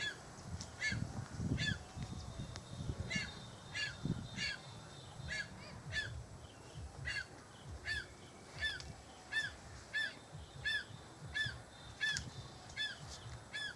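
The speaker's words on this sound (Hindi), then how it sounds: "ये पक्षियों की आवाज़ है।" Loud, rhythmic calls from forest birds repeat at a steady pace through a jungle, ringing out over a low rumbling background with no pauses between them.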